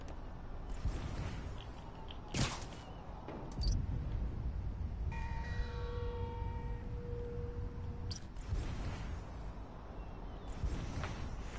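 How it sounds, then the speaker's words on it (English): A bell in the Spider-Man: Miles Morales video game rings with a quiet, sustained tone for about three seconds midway through, set in a soft ambient background with occasional clicks. "It's a bell."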